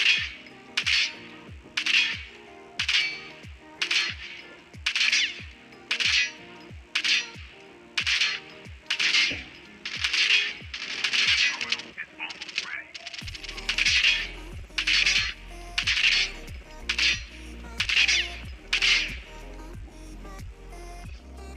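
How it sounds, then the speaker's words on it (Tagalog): Gunshots in a mobile video game, played through Realme Buds Air 2 Neo earphones, crack out in a rapid, evenly spaced series of sharp reports over a low background, with no talking. "At yun, ito yung gunshot niya guys."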